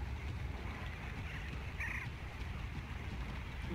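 Crows cawing in the prehistoric open-world game Far Cry Primal, a faint brief call rising over a steady windy, watery ambient bed.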